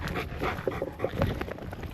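A trained dog pants in quick, rhythmic breaths close by, steady and moderately loud throughout with a few brief soft whimpering tones, no talking.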